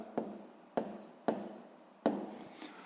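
A pen writing an answer on paper for a sixth-grade maths exercise, four quiet scratchy strokes, each a sharp tap trailing off into a soft scrape, close and faint.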